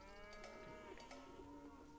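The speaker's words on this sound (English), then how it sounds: "Go for that cow." A cow in Age of Empires 2 Definitive Edition gives a quiet, drawn-out low moo that stretches through the moment, heard alone with no talking.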